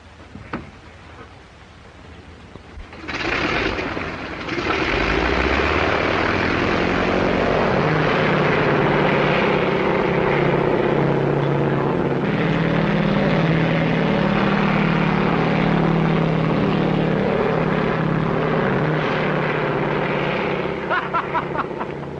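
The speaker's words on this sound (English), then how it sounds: "Hey, Bill, you going to take off?" A 1937 airplane's propeller engine spools up from quiet into a loud, steady roar during takeoff, building over a few seconds and holding near, with faint talk early on.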